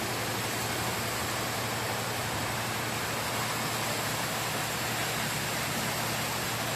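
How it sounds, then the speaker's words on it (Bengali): Heavy rain falls on an outdoor engine repair site, a thick, unbroken roar of downpour that stays loud and steady from start to finish with no speech. "কি পরিমাণ বৃষ্টি হচ্ছে"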